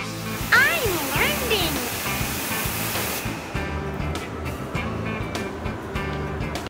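A jet washer blasts water onto a car, a loud close hiss of spray with sputtering bursts, then a steadier rush with faint clicks after the first few seconds.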